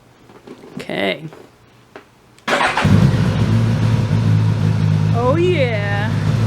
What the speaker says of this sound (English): Well, you don't feel the engine. You hear the engine.